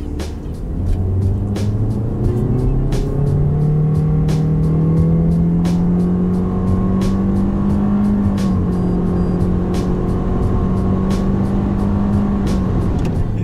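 A 2019 Toyota C-HR with a CVT accelerates hard toward 100 km/h, its engine holding a loud, steady drone that rises slowly in pitch rather than stepping through gears, heard from inside the car.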